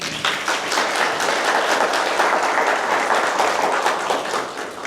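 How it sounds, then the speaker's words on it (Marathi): An audience at an agricultural training session in Shirwal claps together in a sustained burst of applause lasting about five seconds. The clapping is dense and fairly loud, with no speech over it. "ज्यांना कुणाला माझ्या गोष्टीशी सहमत आहेत त्यांनी एकदा टाळ्या वाजवा बरं"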